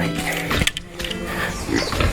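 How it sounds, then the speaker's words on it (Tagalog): Pigs on a farm grunt and squeal close by in a continuous, busy chorus, with overlapping calls throughout. "Dito na yung mga baboy nila."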